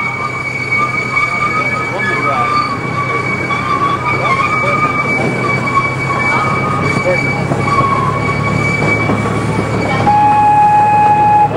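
The Iron Horse mini train running at a park: steady rumbling wheels and rail noise with sustained squealing tones throughout, heard close and fairly loud, with brief talk underneath.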